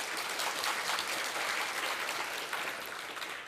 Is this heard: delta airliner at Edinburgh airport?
no